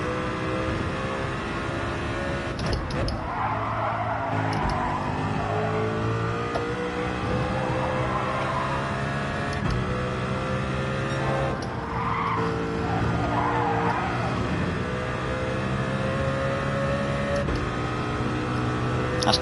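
Race cars in Gran Turismo 7 roar continuously with engine drone and repeated tire squeals and skids, loud and sustained throughout with no talking.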